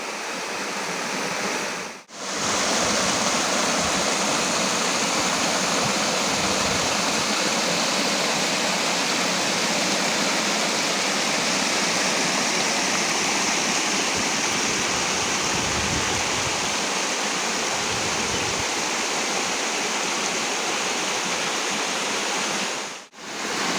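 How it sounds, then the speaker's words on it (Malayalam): Steady, full rush of falling water pours continuously, loud and close, a small waterfall tumbling over a low check dam ledge. "ചെക്ക് ഡാമിന് തൊട്ട് താഴത്തേക്ക് ഇറങ്ങിക്കഴിഞ്ഞാൽ ഒരു ചെറിയ വെള്ളച്ചാട്ടം പോലെയുണ്ട്"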